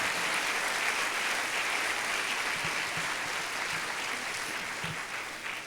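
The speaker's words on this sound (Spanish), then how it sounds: "Denle un aplauso al Señor." A church congregation applauding during a Spanish-language worship service, steady massed clapping that fills the room and gradually thins toward the end.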